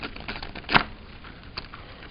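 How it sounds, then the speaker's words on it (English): Riffle shuffle of a tarot deck, cards split end to end: a faint soft patter running through, with one sharper flurry of snapping cards near the middle and a smaller one near the end. "I tend to riffle shuffle end to end"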